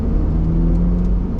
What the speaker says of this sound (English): that's an acceleration with this car compared to the Miata